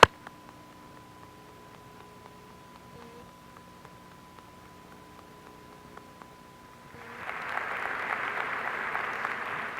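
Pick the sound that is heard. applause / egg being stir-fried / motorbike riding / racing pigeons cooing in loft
applause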